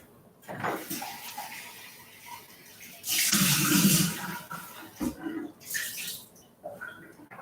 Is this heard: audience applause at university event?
no